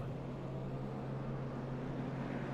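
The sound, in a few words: pace car and race cars driving, from racing video game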